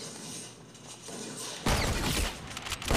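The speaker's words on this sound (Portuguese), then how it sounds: "O cara tomou um tiro e eu também tomei um tiro." Gunfire in Fortnite Battle Royale, a game with a heavy sniper rifle: a sudden loud burst of shots and impacts follows a quieter stretch of game ambience, with further cracks trailing off near the end.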